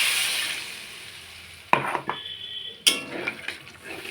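Water is poured into a wok of spiced taro and potato curry, bringing a soft hissing simmer followed by two sharp metallic clanks of a utensil against the pan, with brief sizzling after each.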